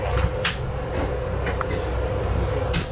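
A train rumbles past in fog in Alaska at a steady, continuous level with a low drone and occasional metallic clanks and hiss bursts, fairly close.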